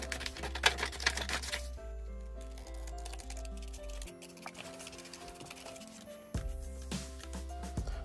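Scissors cut out a paper template in a series of close, crisp snips and paper rustles, with a pause in the middle before the cutting resumes, over soft background music and no talking.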